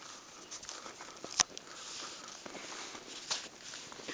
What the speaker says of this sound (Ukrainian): Нещодавно пройшов дощ, тому доводиться йти такою грязною дорогою.